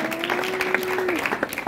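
Audience clapping at a stand-up comedy show in Burundi, a steady patter of applause running through the whole short stretch, moderately loud and filling the room, with a brief louder burst at the very end.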